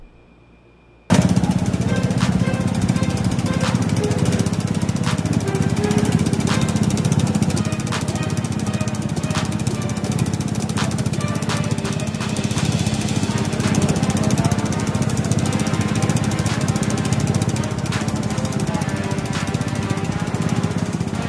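A customized motorcycle runs loudly and close by, its modified exhaust rattling in rapid, machine-gun-like staccato bursts almost without pause.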